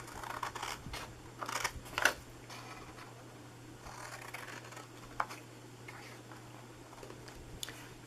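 Scissors cut paper for a tag gift box, giving several soft crisp snips spread across the clip over a low steady hum.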